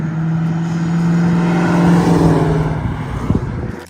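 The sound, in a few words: 1989 Ford Mustang LX 5.0 engine running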